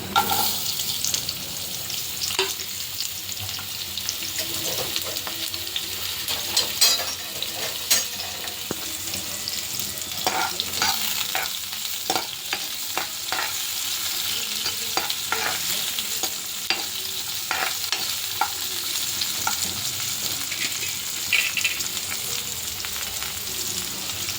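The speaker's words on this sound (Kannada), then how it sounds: "ಎಣ್ಣೆ ಬಿಸಿಯಾಗಿದೆ. ಈರುಳ್ಳಿ ಹಾಕ್ತೀನಿ." Onions hiss and crackle in hot oil for a long, even stretch, punctuated by scattered clacks and scrapes of stirring in the pan, close up with no talking.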